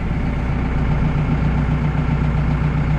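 A tractor engine idles steadily through a freshly repaired exhaust, a continuous low, even rumble at close range with no talk over it.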